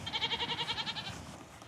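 Goats in a paddock give one close, loud, quavering bleat with a rapid wobbling pulse, which then trails off into quiet outdoor background.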